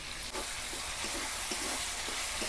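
Potatoes go into hot spiced oil for chana masala and sizzle steadily, a constant frying hiss with soft clinks of stirring, no voices over it.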